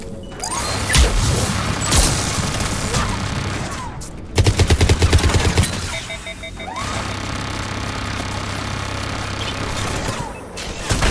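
Combat in the video game Mass Effect 3: loud, close bursts of rapid gunfire, a sharp blast near the middle followed by a fast rattling volley, then more sustained shooting under a droning background.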